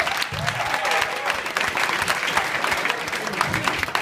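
Applause from a comedy show audience rings out for a comedian, a lively burst of clapping with some cheering, fairly close and continuous.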